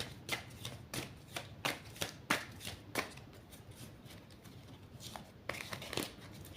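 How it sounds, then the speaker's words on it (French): A deck of tarot cards is shuffled by hand in quick, uneven bursts of riffling and sliding, close and crisp, with brief pauses between runs and no talking. "Je les remets dans le paquet, je remélange."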